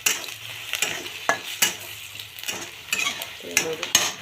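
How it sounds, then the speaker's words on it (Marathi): Spices, kitchen king masala, red chilli powder and garam masala, being stirred into a frying ridge gourd chutney mixture in a pan, with repeated close scraping strokes and clinks of the spoon over a light sizzle. "किचन किंग मसाला, थोडंसं लाल तिखट, थोडासा गरम मसाला, छान असं मिक्स करून घेऊया"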